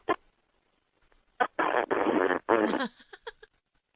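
A fart comes through a tinny phone line: a short blip, then several sustained raspy bursts, trailing off into a few small sputters.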